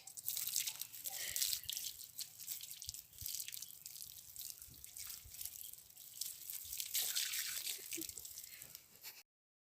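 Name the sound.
hands washed under running tap water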